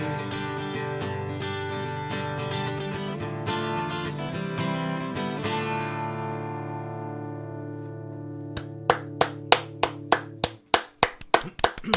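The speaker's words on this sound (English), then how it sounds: "Clap, clap, clap." Music plays for several seconds, then fades out and a series of sharp hand claps follows, roughly evenly spaced and getting quicker toward the end.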